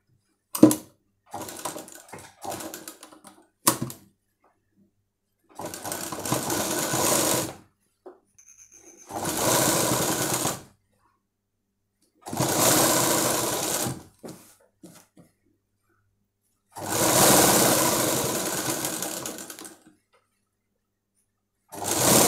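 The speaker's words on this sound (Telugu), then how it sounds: "ఇప్పుడు మనం ఇక్కడ స్లోగా కుట్టుకోవాలి ఫ్రెండ్స్" Sewing machine stitching a blouse at a tailor's shop, running in repeated short bursts of rapid needle chatter, each a couple of seconds long, separated by silent pauses, close and clear with no talking.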